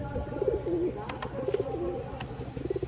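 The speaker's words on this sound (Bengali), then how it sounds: "পায়রাগুলো খুব সুন্দর পায়রা।" Pigeons in a loft coo in soft, rolling phrases, a few bursts repeating across a few seconds, close and fairly quiet with no talk.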